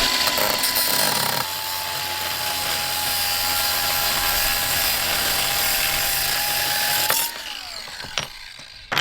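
A power tool whirs steadily at close range as it works loose rusted lamps, with a sustained whine that cuts off near the end, followed by a few clanks.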